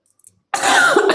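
A single harsh cough bursts out loud and close after a moment of near silence, rough and throaty with a hint of throat clearing at its tail.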